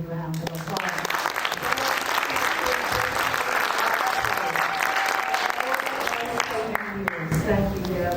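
Audience applause at a museum seed-keeping and Mother Corn teaching event, a sustained round of clapping from a sizeable crowd filling the whole stretch, with a few voices underneath.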